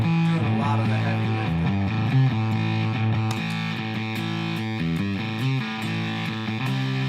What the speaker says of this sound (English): So the reverberation thing is doing a lot of the heavy